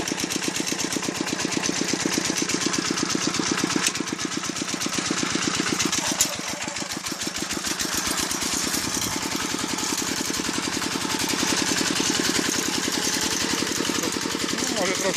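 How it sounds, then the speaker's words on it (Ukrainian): A Zubr walk-behind tractor engine runs continuously with its mower attachment, a steady rapid single-cylinder chug throughout. Someone talks over it at times. "Такого мотокосевку, ну, косарку мотоблока"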